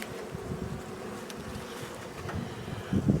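Honey bees drone steadily around a hive frame as they are rolled off it, a dense close buzz with light wind rustle on the microphone and no voices.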